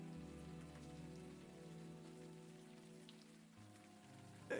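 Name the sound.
rain falling in the video game Unavowed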